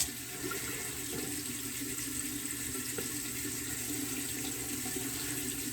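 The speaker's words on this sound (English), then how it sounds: "So let's get us a little bit of cold water here." Steady rushing water runs continuously from a tap, a constant hiss with no pauses.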